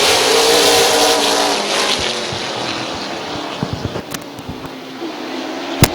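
Late model stock cars roar around Midvale Speedway in a heat race, a dense loud engine drone that sweeps past and slowly fades, with sharp clicks and knocks near the end and no talk.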